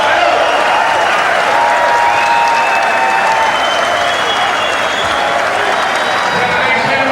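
A boxing crowd applauds steadily after the bell ending the fourth and final round, loud sustained clapping and crowd noise filling the space throughout, with a commentator's voice faintly underneath.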